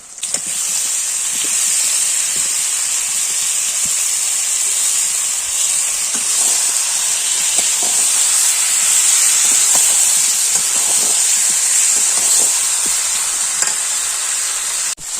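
Spice-marinated jackfruit sizzles in hot oil in a pan, a loud, constant hissing fry close up with occasional scraping stirs and crackles, and no voices throughout.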